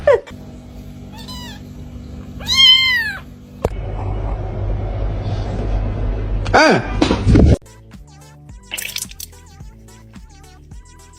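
A cat gives a few short, rising meows near the start and again a moment later, mixed with bursts of background clutter, a voice and some playful musical notes toward the end.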